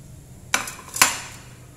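Two sharp metallic clanks ring out as Vietnamese bánh rợm, sticky rice cakes with sweet mung bean filling, go into a metal steamer pot in a home kitchen. The clanks are close and separate, with no talking.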